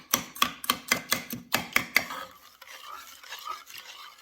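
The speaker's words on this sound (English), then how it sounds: "And just mix it." Kosher salt and brown sugar being stirred together in a mixing bowl: about eight quick, evenly spaced scraping strokes, close and clear, then a softer, continuous gritty rustle as the mixing slows.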